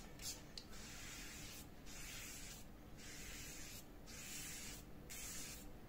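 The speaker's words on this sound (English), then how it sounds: "Spray it evenly along the paper." Repeated bursts of a spray bottle misting water onto watercolor paper, about five hissing sprays at an uneven pace over a quiet background.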